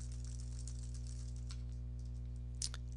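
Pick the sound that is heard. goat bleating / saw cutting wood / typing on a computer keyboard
typing on a computer keyboard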